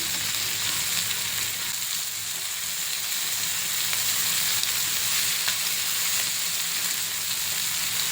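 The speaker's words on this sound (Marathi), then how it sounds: "एक साइड चांगली भाजून घेतली तर परतून घ्यायची" Prawns fry in a pan with a dense, steady, close sizzle that holds evenly throughout.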